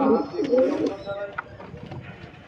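Pigeons coo in soft, rolling low calls close by in a loft, louder at first and then fading into quieter background murmurs, with a light breeze.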